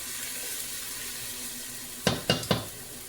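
Zucchini frying in oil in a pan, a steady hissing sizzle close by, then three quick scraping knocks as the slices are moved, with no talking.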